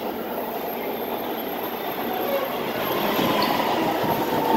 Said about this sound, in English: Is this the last train to North Hollywood?